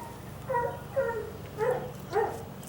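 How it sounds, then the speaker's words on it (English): Neighbourhood dogs bark in the distance during a backyard rib smoke, four evenly spaced faint barks over a steady low hum. "You hear different dogs around the neighborhood barking because they're all smelling this"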